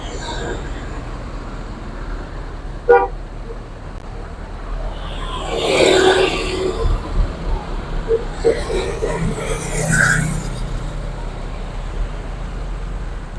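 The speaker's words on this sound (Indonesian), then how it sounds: "Berlian Jaya menuju Jabodetabek dengan jet bus 5-nya, bus terbaru ya" A Berlian Jaya Jetbus 5 VIP coach pulls away from Rajekwesi bus terminal in Bojonegoro: a steady low engine rumble with a rising surge midway, a brief sharp knock and a short tonal toot amid terminal ambience.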